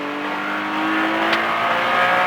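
A race car engine accelerating, a steady rising drone of revs building over a couple of seconds, heard alone without voices.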